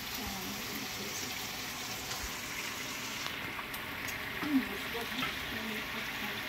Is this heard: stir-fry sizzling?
yes